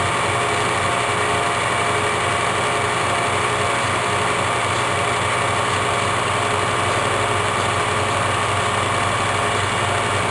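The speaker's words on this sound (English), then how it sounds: "Drilling and feeding at the same time." A machine drills and feeds stock for a swivel-back chair hinge part, giving a steady, unbroken mechanical drone with constant hum and no pauses or talk.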